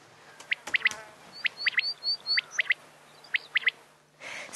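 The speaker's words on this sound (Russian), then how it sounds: "голос у перепела тоже запоминающийся" A recorded quail calls in repeated quick chirping phrases, three or so sharp notes per phrase, fairly clear against a faint hiss, with no voices.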